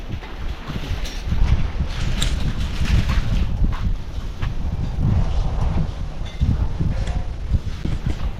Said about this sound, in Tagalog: hangin na naman oh